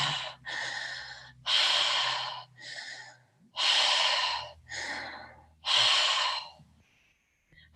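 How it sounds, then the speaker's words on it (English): Deliberate clearing breaths drawn in and pushed out through the mouth, seven loud, close breath bursts in a steady slow rhythm, each long and airy, with a low hum underneath and no talking. "So we take 10 clearing breaths together."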